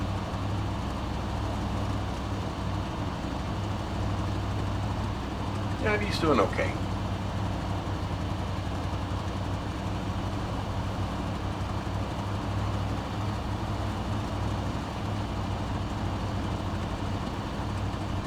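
A small truck towing a trailer grinds through deep snow on a frozen lake at Lake Ribiere, Quebec, a steady engine drone and rumble running throughout, with a brief knock partway through and a voice speaking over it.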